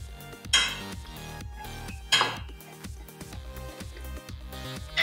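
Toasted brown garlic spooned into a cup, giving a few sharp clinks of metal against the cup, with two louder knocks standing out among lighter, irregular taps close by.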